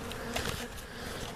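Grumpy honey bees buzzing around an opened beehive during an inspection, a dense, continuous hum with a few louder passes near the ear, no voices.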